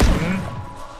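A single heavy explosion in an action game, a loud thudding crash at the start that decays into a low rumbling tail.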